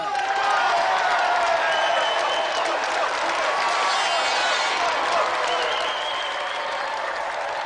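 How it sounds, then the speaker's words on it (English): A television game show studio audience claps for the contestants: dense, sustained applause with some cheering, loud and continuous before easing slightly at the end. "let's have another round of applause for Mike Bedford and the reigning champion, Thomas Patterson"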